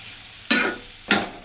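Two sharp stirring strokes scrape through soaked flattened rice and moong dal frying in ghee, each stroke flaring briefly over a low background sizzle.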